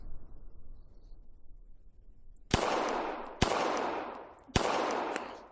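Three sharp, loud gunshots ring out one after another on an outdoor shooting range as rounds are fired at a paper target, each blast followed by a short decaying echo, with no talking.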